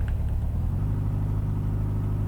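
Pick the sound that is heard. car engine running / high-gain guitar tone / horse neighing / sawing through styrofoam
car engine running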